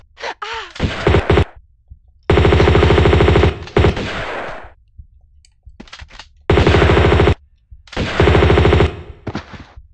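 Sustained bursts of automatic gunfire in the video game Tomb Raider 2, loud and close, coming in several long volleys separated by short pauses and scattered single shots.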